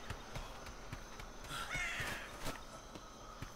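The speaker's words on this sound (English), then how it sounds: "Seagull got mad about something." A seagull in the game Atlas lets out a brief harsh squawk, faint and distant over low background game ambience with soft rhythmic thuds.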